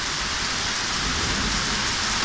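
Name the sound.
heavy rain and thunder during thunderstorm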